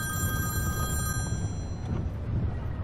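A telephone rings steadily with sustained bright tones over a loud, rumbling low background noise, no voices clearly heard.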